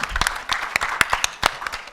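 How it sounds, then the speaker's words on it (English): Applause at a Style Tatva press meet, a short stretch of uneven hand claps from a modest group, close and fairly loud, with faint voices mixed in. "A big round of applause,"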